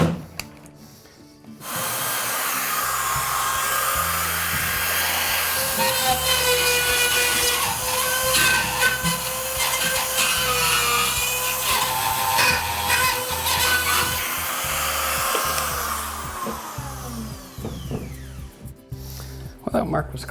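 A drywall saw or cutter works through a drywall sheet to open an electrical box hole, a steady loud rasping grind lasting many seconds before tapering into scattered scrapes, with people talking over it.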